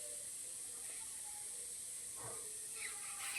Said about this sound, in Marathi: तसंच फ्राय करत राहायचं. चांगलं तेल सुटतं त्याला.